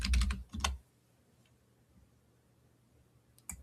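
A short burst of computer keyboard typing clatters up front, then quiet room tone, with a couple of light key taps near the end.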